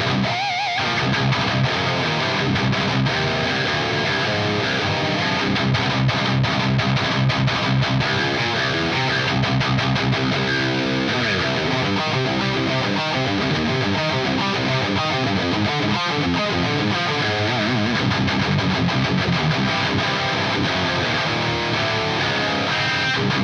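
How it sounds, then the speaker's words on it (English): Heavy, crushing modern rectifier-style electric guitar tone from the Atomica High amp model on an Axe-Fx III, played as dense distorted riffing that stays loud and steady throughout with no talking. "It can also do absolutely crushing modern rectifier style tones like this."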